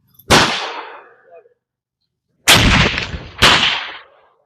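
Muzzleloader rifle loaded with 90 grains of 2F Swiss black powder firing at a 100-yard range, a loud sharp close blast with a decaying echo, followed by two more similar bangs.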